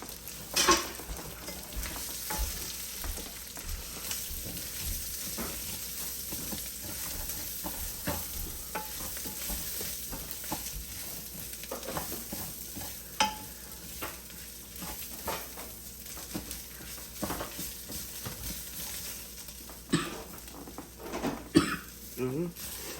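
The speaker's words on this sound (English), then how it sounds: "Stir away. Get it all nice and mixed in." Jambalaya with seafood and sausage being stirred in an oiled pot, a steady scraping and soft sizzle running throughout with scattered clatters, a few coughs and voices heard over it.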